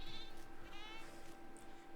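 A goat in the dinosaur park game Jurassic World Evolution 2 lets out a brief, wavering bleat over a faint ambient game soundscape with insect-like buzzing.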